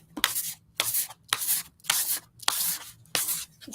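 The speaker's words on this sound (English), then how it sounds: "And we're going to scrape this around." A card scrapes paint across a masterboard art card in about six quick, close, dry strokes, each a rasping swipe separated by short pauses, with no talking.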